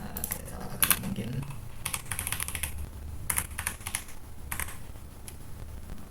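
Someone types a new password on a computer keyboard in short bursts of quick, light key clicks separated by pauses, heard close over a low room hum.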